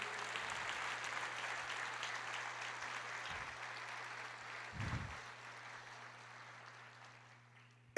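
A church congregation applauding the Lord during a sermon, a broad wash of steady clapping that holds for several seconds and then fades out, with a couple of low thumps underneath.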